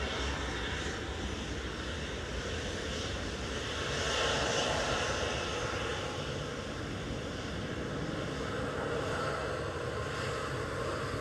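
A Boeing 737-800 departs Manchester Airport bound for Pula, its jet engines giving a steady, loud, broadband roar that swells slightly midway and holds without a break, with some wind noise and no talk.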